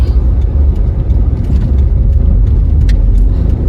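A car moves off from a yield sign on Northridge Drive in Saskatoon during a summer driving lesson, its engine a steady, close, continuous rumble with no talk over it.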